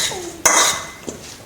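Salad of berries and salt being tossed in a bowl, a single loud clatter of utensils against the dish followed by a softer scrape and clink, close by.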